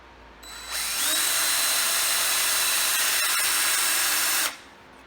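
A handheld power drill runs steadily at high speed for about four seconds, close and fairly loud, spinning up quickly and stopping abruptly, with no talk.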